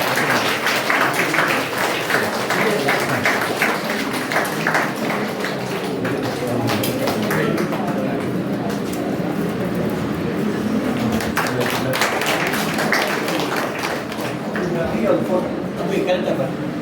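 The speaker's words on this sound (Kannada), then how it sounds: "ಎಲ್ಲರೂ ಸಹ ಚಪ್ಪಾಳೆ ಮೂಲಕ ಪ್ರೋತ್ಸಾಹಿಸುತ್ತಾರೆ" Applause from a crowd inside a college office, clapping steadily in encouragement throughout, with a voice talking over it.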